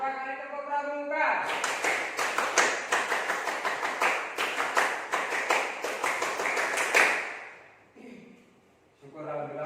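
A group performs the Pramuka scout clap twice, a rapid run of sharp rhythmic hand claps with a patterned beat lasting several seconds, loud and close, with brief voices before and after.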